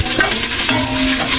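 Garlic, ginger, onion, chili and lemongrass sizzle as they are stirred in a pot, with a steady frying hiss and light scraping throughout.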